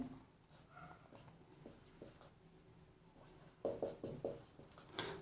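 A date being written by hand with a pen on a ledger page: faint, soft scratching strokes, then a few sharper, quicker pen marks near the end, close and quiet, with no talking.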